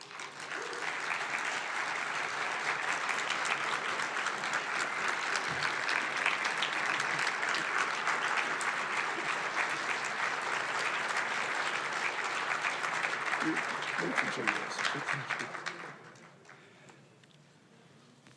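An audience at a lecture on Duke Ellington gives sustained, dense applause welcoming the professor, steady for about fifteen seconds before quickly fading to a quiet room.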